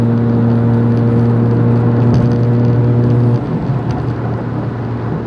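An 850-horsepower MK5 Toyota Supra driven at speed, a loud steady engine drone with strong tonal hum that drops in pitch partway through, under road and wind noise.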